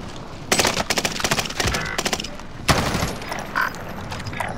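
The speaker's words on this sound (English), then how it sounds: "under heavy fire here" Heavy gunfire in Call of Duty: Modern Warfare, with dense bursts of automatic fire and sharp cracks crowding the middle of the moment, then a loud report and scattered shots trailing off at close range.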